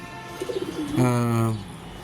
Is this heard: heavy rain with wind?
no